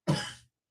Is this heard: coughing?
yes